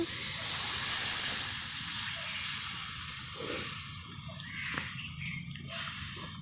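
Steady hissing sizzle of water hitting a hot pan of sautéed meal maker curry, fading gradually, with a brief clatter near the end.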